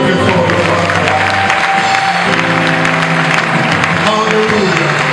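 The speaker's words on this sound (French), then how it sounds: "Acclamez très fort le Père" A church congregation applauds and cheers loudly, dense clapping and voices filling the room throughout, with sustained tones underneath.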